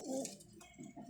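Pigeons, including a pair kept for sale, give a brief soft low coo close by, with a faint rustle after it.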